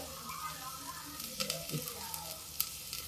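Finely chopped garlic sizzling with onion in hot ghee for a veg pulao, a soft steady frying crackle with a few light stirring scrapes, faint and close.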